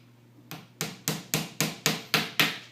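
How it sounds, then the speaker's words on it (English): Seven sharp hammer blows on a nail into wood, struck at a steady rhythm about a third of a second apart, close and crisp with a low hum underneath. "Hammer that nail."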